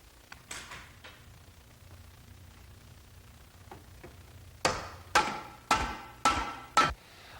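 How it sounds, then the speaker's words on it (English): Taps knocking the aluminum case halves of a Ford manual five-speed transaxle apart: a few faint ticks early, then a run of five sharp, evenly spaced metallic knocks close by near the end. "And tap the case halves apart."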